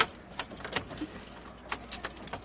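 Car keys jingle and clink inside a car in a run of quick, bright, irregular jangles, loud and close, with quiet gaps between the shakes.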